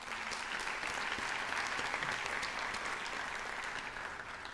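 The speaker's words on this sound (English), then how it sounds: "Give yourself a round of applause." Sustained applause from a graduation commencement audience, dense and steady clapping that continues throughout at moderate loudness with no clear voices.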